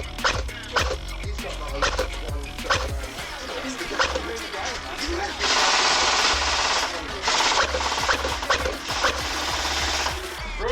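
Airsoft guns fire in rapid bursts and single snapping shots during an outdoor game, with dogs barking and a louder sustained volley in the middle.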